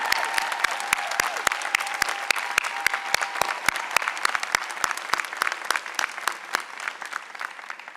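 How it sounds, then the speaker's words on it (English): Graduation ceremony audience applauding in a large hall, dense steady clapping from many hands sustained throughout with crisp individual claps standing out, no speech over it. "give your families and friends a round of applause"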